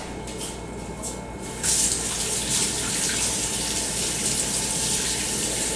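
Kitchen tap running as something is rinsed while baking banana bread: a few faint clinks, then water gushes on strongly and keeps flowing steadily into the sink, close and alone.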